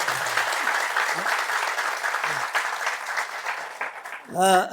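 Audience clapping steadily and fairly loudly for several seconds during an Ethiopian business training session, with a voice cutting in near the end.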